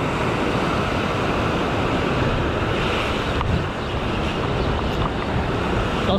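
Sea waves surge and wash in a loud, continuous rush, with wind buffeting the microphone throughout.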